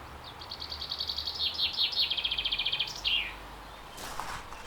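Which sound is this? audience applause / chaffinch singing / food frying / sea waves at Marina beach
chaffinch singing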